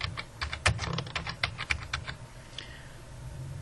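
Fast typing on a computer keyboard into an Excel spreadsheet: a quick, close burst of key clicks that slows and fades near the end, with no voices.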